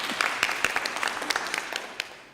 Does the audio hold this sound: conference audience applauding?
yes